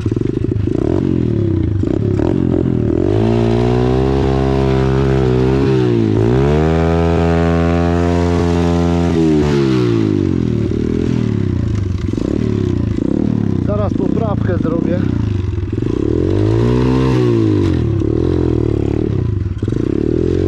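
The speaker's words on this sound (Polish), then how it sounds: "Fajnie ten motor pyka." A small 125cc Xmotos motorcycle engine runs loud and close, revving up and down repeatedly with a buzzy, rising and falling pitch for the whole stretch.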